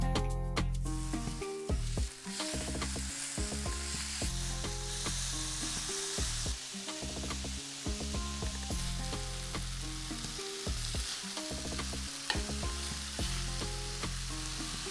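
Stew beef sears in a hot pan with a steady, dense sizzle and crackle that runs throughout under background music.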